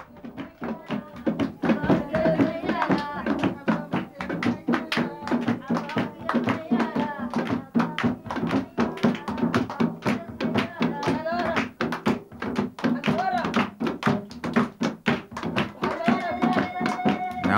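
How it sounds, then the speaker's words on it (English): Rhythmic drumming and hand clapping drive an Egyptian women's ritual dance, a fast, dense stream of sharp beats that continues throughout with brief tonal trills rising over it. "The evil spirits are driven out by drumming,"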